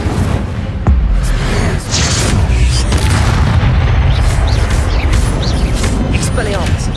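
Incendio fire spell cast in Hogwarts Legacy: a loud whooshing boom with a sharp onset, followed by roaring, crackling blasts and layered impacts over continuous game noise, with a voice speaking over it.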